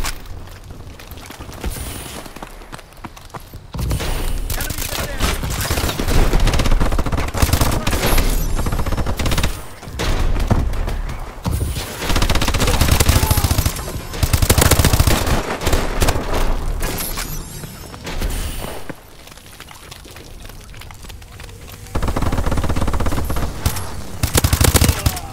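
A remote turret fires in a video game amid dense, continuous automatic gunfire. Rapid bursts overlap with heavy booms and barely pause.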